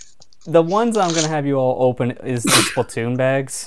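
A sharp sneeze bursts out midway through lively talk at a Christmas gift exchange, with people speaking continuously around it and rustling gift bags nearby.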